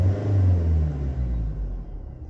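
A Citroën Jumpy 2.0 HDI diesel engine revs up under acceleration, a loud, steady low rumble that swells and slowly eases off over a couple of seconds.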